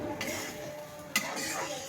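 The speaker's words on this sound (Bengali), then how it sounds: "সুন্দর করে নেড়ে নিলাম।" A spoon scrapes and clinks against a pan while stirring a spiced curry paste with a little water, soft scraping with one sharp knock, close and brief.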